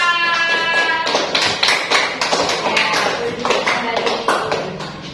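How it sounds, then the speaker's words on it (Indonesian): A classroom group claps for a student group, with loud, fairly close rhythmic hand claps and taps running throughout, following a brief tonal ring at the start. "Tepuk tangan untuk kelompok 4."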